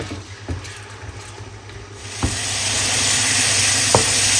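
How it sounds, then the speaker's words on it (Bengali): Spice paste for a Malabar spinach dish being fried in a pan, sizzle swelling into a loud continuous hiss near the end, with a few sharp knocks of a stirring spoon, close by. "এখানে পুঁই শাকের মশলা কষাই ফেলছি"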